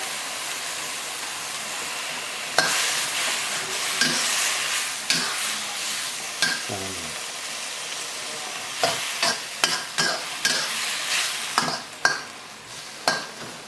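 Hmong squash shoots stir-fried in a wok, a constant hiss of frying under repeated sharp scrapes and clanks of the spatula, coming in irregular bursts and growing busier toward the end.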